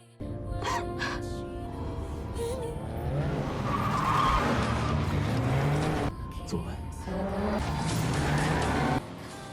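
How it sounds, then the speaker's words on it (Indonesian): A car chase in a romantic drama: tires skid and squeal over a steady engine roar for several seconds, with a short break partway through. Voices or music are layered over the chase. "Tiba-tiba sebuah mobil mengejar."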